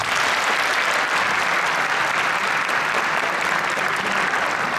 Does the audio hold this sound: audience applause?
yes